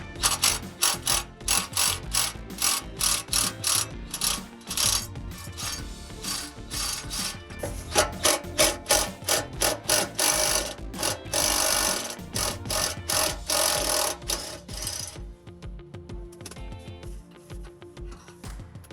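A ratchet turning a 13 mm socket to loosen a cat-back exhaust part on a 2015-2021 Dodge Challenger 3.6L V6, with loud, fast, close clicking in continuous bursts that slows and thins out near the end.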